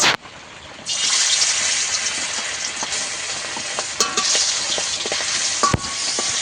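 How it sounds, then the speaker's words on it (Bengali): Fish pieces hit hot oil and set off a loud, steady sizzle that stays close and bright throughout, with a few sharp pops and spatters. "মাছগুলো তেলের মধ্যে দিয়ে দেব।"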